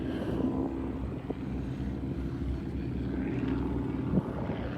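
Stearman biplane taking off during a biplane fly-in, a steady droning radial engine and propeller roar sustained at moderate distance, with no talking.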